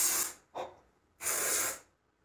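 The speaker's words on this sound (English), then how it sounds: "Got my dry shampoo here." Dry shampoo sprayed from an aerosol can in three close, loud hissing bursts: a short one, a brief puff, then a longer blast of about half a second.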